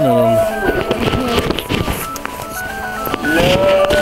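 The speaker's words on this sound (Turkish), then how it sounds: "Kimin telefonu çalıyor acaba?" Mobile phone ringtone chiming with tonal melodic notes at a village outdoors, heard under overlapping chatter from several people nearby.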